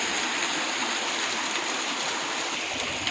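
A roadside spring spills water in a steady, dense rush, close and constant with no break, beside a parked lorry.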